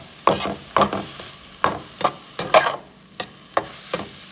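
Food browning in a pan on a keto cooking stove gives a series of about ten distinct scraping stirs and sizzling bursts, close and fairly loud, with no talking.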